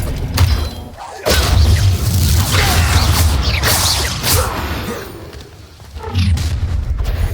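Expelliarmus spell cast during combat in the video game Hogwarts Legacy, a loud magical blast with booming, whooshing and shattering layers, sustained rumbling and crackle, then a swell of impact near the end.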